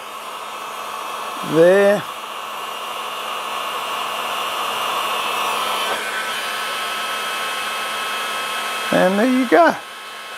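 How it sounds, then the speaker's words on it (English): A heat gun melting beeswax in a jar blows a steady, airy hiss close by, with someone speaking briefly over it near the start and again near the end. "This is a heat gun. I just put it in"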